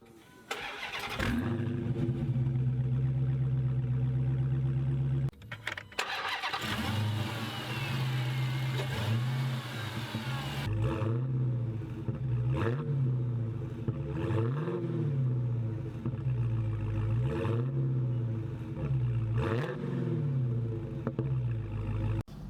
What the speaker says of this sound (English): so let's start her up and get going